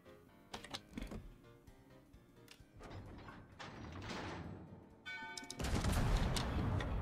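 Naval gun volley from a warship in World of Warships: sharp cracks and rumbling booms in irregular bursts, building into a loud sustained roar near the end, close and heavy, with no voices.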